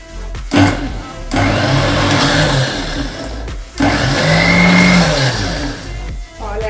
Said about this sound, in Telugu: పాలను కూడా ఇందులో యాడ్ చేసేసుకొని ఇప్పుడు మళ్ళీ ఒక్కసారి మిక్సీ పట్టుకున్నాము